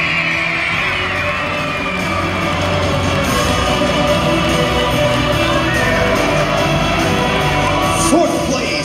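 Loud crowd of spectators yelling, whooping and cheering at a national youth cheerleading competition awards ceremony, sustained and dense with high shouts over a roaring bed.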